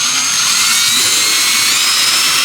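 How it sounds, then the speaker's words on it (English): A loud, steady high-pitched whine of a power drill running continuously, close up, cutting off abruptly at the end. "we're going to drill a hole right here"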